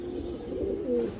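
A brief, close, low cooing phrase from a large silver female pigeon of an old bloodline.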